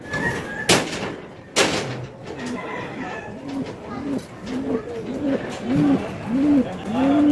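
Racing pigeons coo in a repeated, rhythmic series of soft throaty calls, with a couple of sharp knocks early on.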